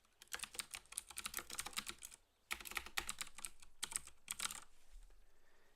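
A computer keyboard being typed on in quick bursts of clicky keystrokes, with a short pause between runs, fairly quiet and close, with no talking.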